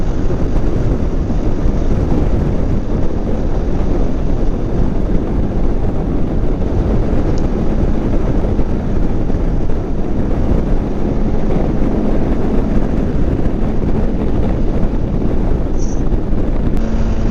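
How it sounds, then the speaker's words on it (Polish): Strong wind roars over the rider of a Yamaha T-Max 560 scooter from 2020, a loud, constant buffeting rush with a low engine drone beneath it and no pauses. "Ale ogólnie to wieje strasznie, kurde."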